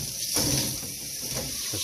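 Water pours and splashes out of an air fryer pan into a sink, a short gurgling rush lasting under two seconds, close and fairly loud.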